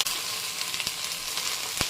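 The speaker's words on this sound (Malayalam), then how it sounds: "ഈ സമയത്ത് നമ്മൾ കട്ട് ചെയ്ത് വെച്ചിരിക്കുന്ന ചീര ഇതിലേക്കിട്ട് കൊടുക്കണം" Chopped spinach for a thoran hits a hot pan and sizzles in a steady, close hiss, with a few sharp crackles and pops along the way.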